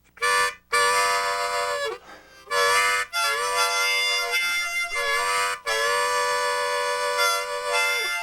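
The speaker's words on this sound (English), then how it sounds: "Does that sound like a train whistle to you?" A harmonica sounds sustained two-note chords on holes 4 and 5 draw in long blasts separated by short breaks, bending in pitch like a wailing train whistle.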